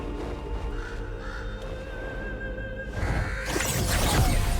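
Bird cawing in the fantasy video game Dragon Age: The Veilguard: a harsh caw or cry rises out of a quiet ambient tone and is followed by a louder, rushing burst of noise.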